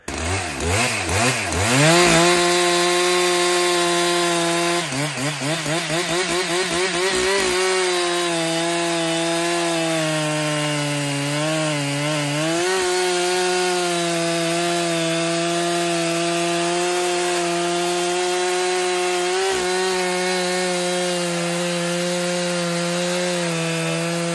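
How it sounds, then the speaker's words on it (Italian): A steady, loud engine drone with a rising and falling pitch as a chainsaw cuts through logs, continuous for the whole stretch. "con la motosega entravo dentro cannone, tagliavo tutto quanto"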